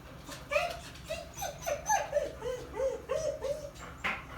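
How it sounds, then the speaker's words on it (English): Several dogs whine and squeak in a run of high, wavering yelps and whimpers, close and fairly loud, repeating in short bursts with no talk. "that's just the dogs"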